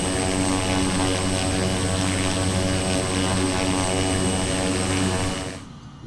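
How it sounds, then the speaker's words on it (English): Constant loud propeller drone of a Cessna Caravan in flight, heard from inside, a steady engine hum filling the whole stretch before fading slightly at the end; no voices. "Robert has never flown a Cessna Caravan before"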